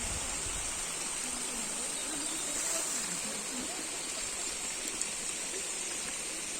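Water cascades down the stepped waterfalls of the hillside park at Wilhelmshöhe, running from the Hercules statue toward the castle, giving a steady, dense rushing wash with no breaks throughout.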